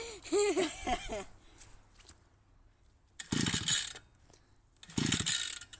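A 52 cc engine being pull-started, its recoil starter giving two strong ratcheting yanks that cut in abruptly and stop, with a short burst of talk before the first pull.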